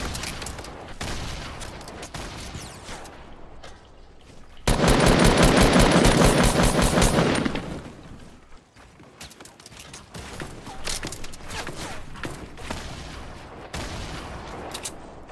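Sustained automatic gunfire in the battle royale game Fortnite, a loud dense burst of rapid shots lasting about three seconds, surrounded by quieter scattered shots and game noise.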